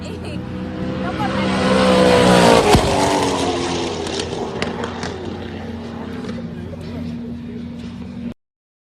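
Modified track-day car making 518 wheel horsepower, its engine note rising to a loud peak around a sharp crack, then settling to a steadier roar before cutting off abruptly.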